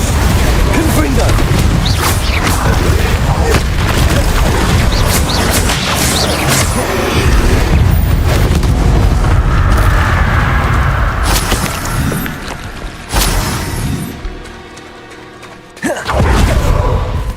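Loud, dense explosion effects from the Confringo spell in the game Hogwarts Legacy, with booming impacts and crashing debris. Bursts keep coming through most of the stretch before a brief quieter lull and a final thump.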